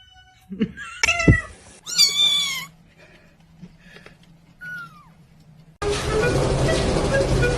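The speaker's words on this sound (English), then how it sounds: "Let me hear a meow." Cat meows several times in short, rising and falling calls, close by, followed by a burst of loud broadband noise; little speech beyond that.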